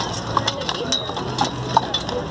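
Carriage horses clip-clop on pavement at a protest, with a few faint hoof strikes spaced irregularly beneath crowd chatter and street noise.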